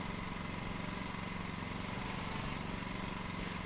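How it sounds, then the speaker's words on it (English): A lawn mower engine runs steadily in the Lawn Mowing Simulator video game, a continuous low droning rumble with a faint rhythmic chug, held at even loudness with no voices. "You turn up to the grass, you turn your mower on"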